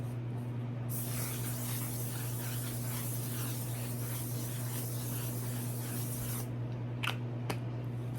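A makeup setting spray mists out in one long, steady hiss lasting several seconds, close and fairly loud over a constant low hum, followed by a couple of short spritzes.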